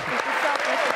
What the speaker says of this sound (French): Applaudissements pour monsieur Arène qui les dirige.